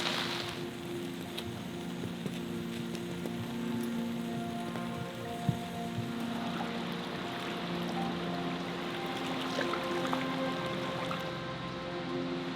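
Steady rain patters and drums on a camp shelter during a remote river expedition in the Canadian sub-Arctic, a dense continuous hiss with scattered louder drops, close and even throughout.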